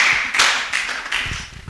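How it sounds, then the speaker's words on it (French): Congregation clapping in church after a call to applaud, a dense burst of overlapping handclaps that surges and tapers over a couple of seconds, with a few louder claps near the end. "Applaudissons pour la parole de Dieu."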